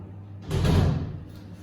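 A door in Ashburne Hall, a University of Manchester residence, swings shut with a single close, full-bodied thud and a short trailing rumble, heard alone at fairly close range.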